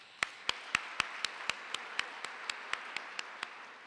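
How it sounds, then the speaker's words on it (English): At a county forum, faint, evenly spaced claps ring out in a steady quick rhythm, roughly four per second, fourteen or so in a row, over a quiet room. "give the state and the legislators and Governor Brown a big round of applause"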